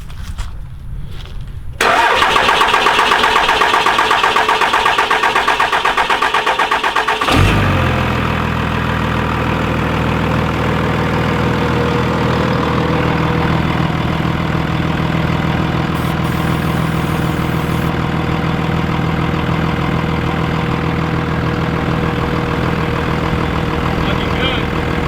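A Cummins diesel pickup truck that has been hard to start after sitting cranks briefly and fires. It settles into a loud, steady, rumbling idle that runs unbroken for over twenty seconds.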